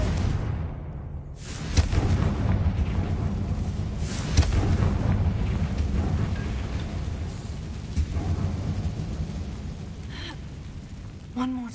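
A Confringo blasting spell in Hogwarts Legacy explodes in a couple of sharp bursts amid rumbling game ambience, with several short impacts scattered across the stretch and no talk.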